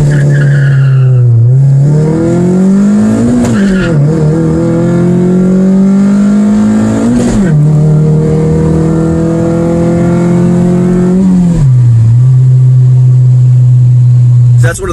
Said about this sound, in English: If you time it just right, you can shift it with one pop of the ignition.